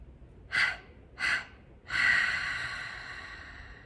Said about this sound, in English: Inhale through your nose. 3-part exhale.